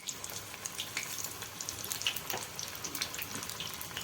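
Corn pakoda batter dropped by hand into hot oil on a full gas flame, street-style, giving a steady, quiet crackling sizzle with fine pops throughout, close by and with no talking.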